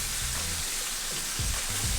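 Fish frying in a non-stick skillet, a steady close hiss of sizzling oil with brief scraping bursts as the fillet is turned, no talking.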